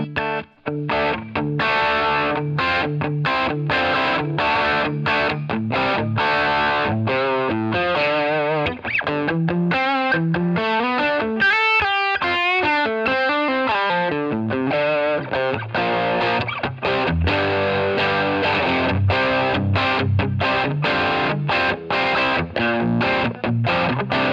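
Electric guitar played through a J Boss Angry Driver overdrive into a Line 6 Catalyst 100 amp, chunky distorted chords and single-note riffs with a rhythmic, crunchy attack, close and loud, no voices.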